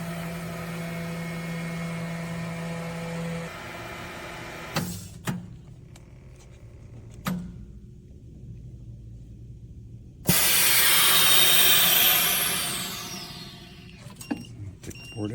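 A Promarks table-top vacuum sealer compresses a bag of clothes with a low motor hum, then a few clicks, then a loud rushing hiss of air that gradually tapers off, close and with no talking.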